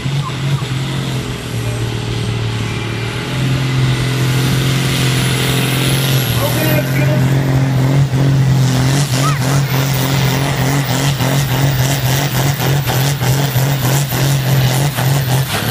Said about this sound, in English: trying to get enough heat in the engine and get the turbocharger to work